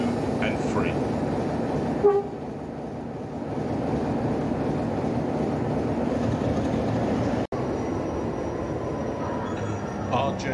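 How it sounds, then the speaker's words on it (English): A diesel locomotive manoeuvring to run round its train at the Spa Valley Railway diesel gala, giving a steady, loud, close engine rumble that carries on without a break for the whole stretch. "R.J Mitchell manoeuvres itself in preparation to take the train on for the return journey."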